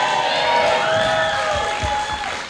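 A wrestling crowd at a Fight Kingdom event roars and cheers for Blackwood, a steady, loud wash of voices and applause that stays sustained throughout.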